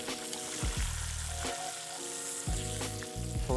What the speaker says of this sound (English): Fried just until golden brown here.